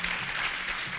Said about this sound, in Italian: l'applauso non per me, non ho ancora detto niente